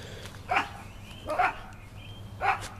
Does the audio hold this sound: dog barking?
yes